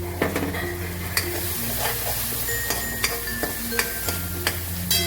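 Spices sizzle loudly in a hot pan of ragda while a utensil stirs and scrapes, producing a steady fry hiss with sharp scraping clicks, close and without talking.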